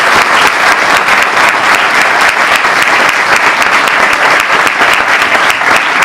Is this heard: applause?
yes